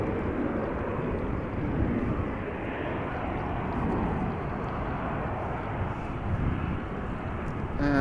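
Airliner taxiing toward the runway threshold at Amsterdam Schiphol Airport: a steady, moderately distant jet engine roar that holds level throughout, with no talk.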